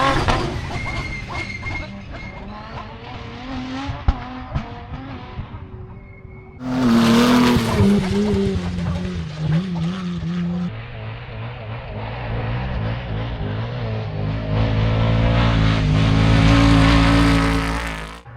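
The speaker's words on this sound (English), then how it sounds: "There goes the first car, no dust." Race cars at the Finke Desert Race in the outback speeding past, engines rising from distant drone to a loud close roar and fading, with engine revving, no voices.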